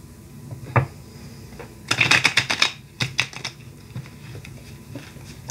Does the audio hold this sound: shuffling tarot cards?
yes